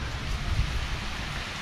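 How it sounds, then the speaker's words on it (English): Steady rain falls on a dreary day in West Bend, Wisconsin, a continuous, even wash of drops with a soft low rumble and no voices. "It's been a very, very dreary, rainy day here in West Bend, Wisconsin,"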